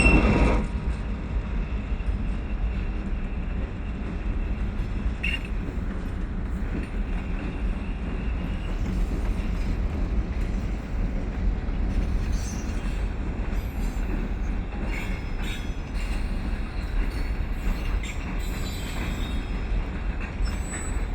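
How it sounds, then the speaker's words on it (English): Freight train rolling steadily past, hauled by BNSF GP38-2 and GP9RM locomotives with an old Grand Trunk Western extended-vision International caboose on the end, in winter; continuous loud rumble of wheels with occasional squeals and clanks, no voices. "And on the end of this train is the Grand Trunk Caboose, an extended vision international caboose."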